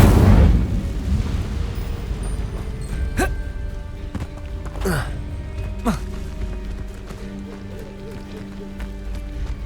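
Incendio fire spells cast in Hogwarts Legacy burst out as sharp whooshing blasts, three of them spaced a couple of seconds apart over a steady, busy game soundscape, with a voice talking throughout.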